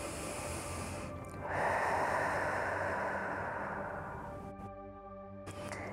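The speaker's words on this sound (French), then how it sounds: "On prend 3 grandes respirations ici." One long, deep breath taken during a neck stretching exercise, a steady breathy rush that swells and then fades, close and soft, with no speech.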